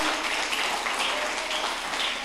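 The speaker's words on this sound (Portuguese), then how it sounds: "Se você crê nisso, aplauda o Senhor, queridos" Steady, dense applause from a church congregation fills the space evenly, sustained and fairly loud with no pauses, and no voice rises above it.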